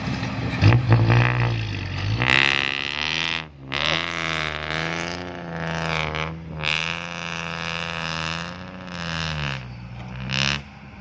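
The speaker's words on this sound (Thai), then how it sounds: "โอ้หเสียงท่อ" Loud, rough exhaust from a dump truck hauling soil, revving and rumbling continuously with rising and falling pitch, close by.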